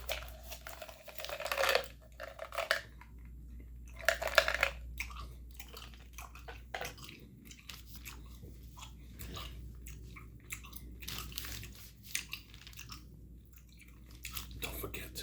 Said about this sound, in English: let me get some gum going.